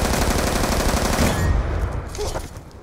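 A light machine gun fires in a multiplayer shooter during the Apocalypse DLC, loud and close in a dense, continuous automatic burst that fades away after about a second and a half.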